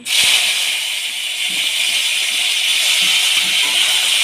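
Chopped large tomato hits hot oil already frying cumin and chilli and sets off a loud, steady sizzling hiss that lasts the whole time, with faint clinks underneath.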